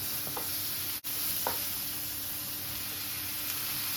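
Tomato and green chilli sautéing in a pan for a home-style beef curry, giving a steady soft sizzle and hiss with a couple of light stirring scrapes and one brief dropout, no talking.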